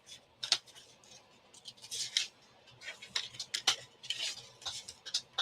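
A paper trimmer slices through cardstock in a series of short, quiet, crisp swishing cuts, irregularly spaced and close by, with faint soft rustles between strokes.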